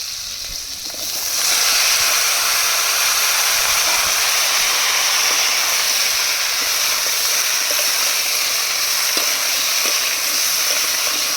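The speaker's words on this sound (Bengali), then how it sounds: "এবার কেটে রাখা কলি আর বেগুন দিয়ে কষিয়ে নেব" Potatoes, onion stalks and eggplant stir-fry in a pan, giving a loud, continuous broadband hiss that swells after the first second and holds steady throughout.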